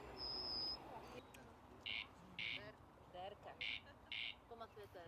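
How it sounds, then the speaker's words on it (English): Dry, rasping calls of a corn crake from farmland repeat as short paired bursts at a steady pace, moderately distant over a hissy background. "Corn crake, yes, it's a corn crake."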